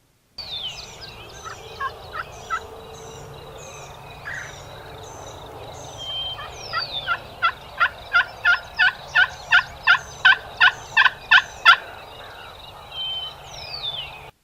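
Wild turkeys gobble outdoors, with scattered calls at first and then a rapid, evenly spaced run of loud gobbling bursts.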